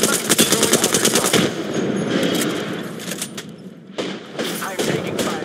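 Rapid automatic gunfire in a shooter video game, loud dense bursts that keep going through most of the clip, with a short pause before another burst, and game voice lines heard among the shots.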